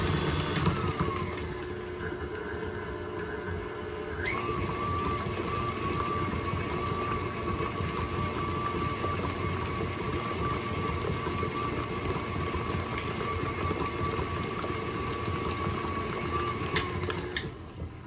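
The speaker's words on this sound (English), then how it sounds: "If you don't have a KitchenAid mixer, you can use whatever kind of mixture you have." A KitchenAid stand mixer runs on high, a steady whirring motor hum with a tonal whine that shifts up after a few seconds as it mixes lemon icebox filling, close and continuous without talk.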